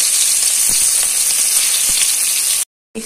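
Stuffed okra (bharwa bhindi) fries in oil over a low flame with a loud, close, steady sizzle that hisses continuously, cuts out for a brief moment, then returns.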